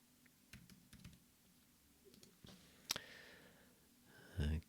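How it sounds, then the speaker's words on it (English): Keys tap softly on a computer keyboard as a search is typed into a browser search bar. The keystrokes come in quiet, irregular bursts, and a louder thump lands near the end. "So let me just quickly look up, type in the search bar, MetaMask installation."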